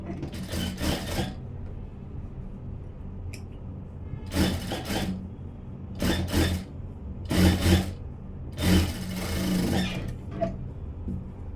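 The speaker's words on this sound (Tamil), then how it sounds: "யோக் பீஸில் தையல் போடுறேன் ஓரமாக" A sewing machine stitching a seam along the edge of a blouse yoke piece, running in several short bursts of rapid rasping stitches separated by quiet pauses, close and fairly loud.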